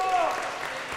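Brief applause for basketball player Kendall Burns at a senior night varsity game, E. Henderson at Franklin, clapping mixed with voices talking over it.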